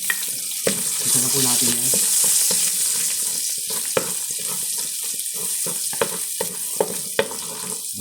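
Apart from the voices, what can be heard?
garlic sizzling and spattering in frying oil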